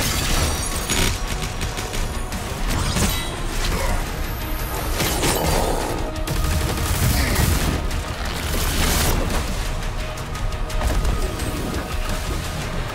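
Rapid weapon fire from a laser gun in the game DOOM The Dark Ages, a dense, loud barrage of crackling shots and impacts running steadily through the whole stretch with no talking.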